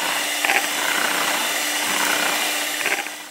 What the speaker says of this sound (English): Fresh cream here, and we're going to use a mixer here.